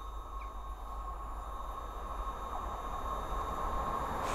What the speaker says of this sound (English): we have a pair of London Western Railway Class 350s coming through from Northampton to London Euston